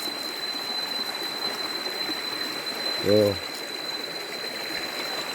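River water flows steadily at an outdoor bathing spot, a constant broad rushing hiss that fills the background, with one brief spoken word breaking in near the middle.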